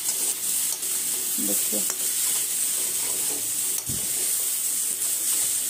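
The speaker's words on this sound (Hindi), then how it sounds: "ये मसाला डाल के मैं थोड़ा सा भूनने देती हूँ मसाला को" Masala with Kashmiri chilli and coriander roasts in a pan at close range, giving a steady sizzle broken by scraping stirs, with someone speaking briefly.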